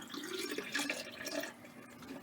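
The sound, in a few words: water draining from a motorhome hand basin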